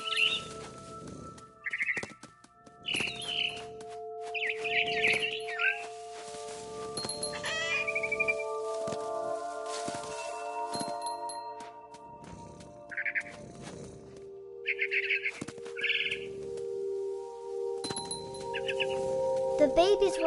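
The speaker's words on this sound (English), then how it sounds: "I heard chirping outside my window. It was a barn swallow going back to her nest." A barn swallow chirps near its nest in What Remains of Edith Finch, giving short bright bursts spread across the passage over sustained music, with a voice speaking in places.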